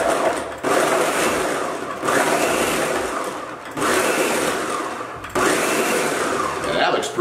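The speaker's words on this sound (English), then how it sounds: "So I'm going to use a blender" A blender runs loudly in four bursts of roughly a second and a half each, with brief pauses between them, while preparing burger mixture.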